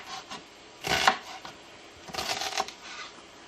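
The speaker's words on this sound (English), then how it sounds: "I have a half an onion over here, and I'm just going to cut it" A knife chops half an onion into small pieces on a cutting board in two short clusters of quick, close strokes, with quiet pauses between them and no talking.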